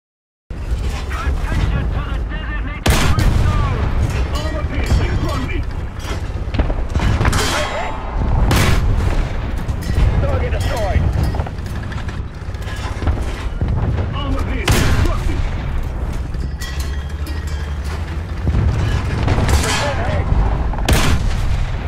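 An APCBC tank shell fires in War Thunder with several heavy booming cannon shots spaced a few seconds apart, each followed by clanging and rumbling, loud over continuous battle noise and a narrating voice.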